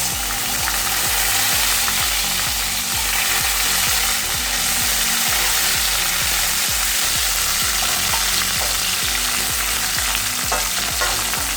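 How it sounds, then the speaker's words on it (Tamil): Sliced small onions sizzle loudly in hot oil in a pan for a Tamil paruppu urundai kuzhambu, a dense continuous frying hiss with rhythmic scraping stirs throughout. "அடுத்தது இந்த வெங்காயத்தை அதில் போட்டுங்க."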